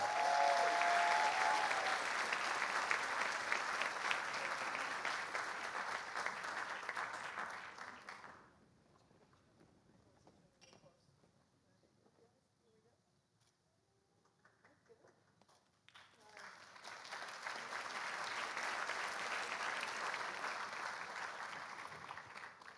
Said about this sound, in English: Let's give them all another huge round of applause while we take a photo.